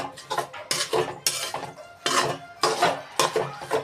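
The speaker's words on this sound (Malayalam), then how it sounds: "സവാള വാരിയിട്ട് നന്നായിട്ട് ഇളക്കി" Sliced onions being tossed and mixed into a cooled spice paste for onion pickle, a run of close, uneven scraping and clattering bursts of a utensil against a bowl with brief pauses between, no talking.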